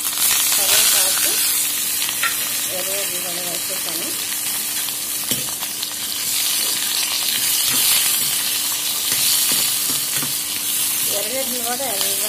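Mustard seeds, fenugreek, cumin and curry leaves sizzling in hot oil for a drumstick pulusu tempering, a loud continuous crackling hiss with faint stirring and a voice talking briefly underneath.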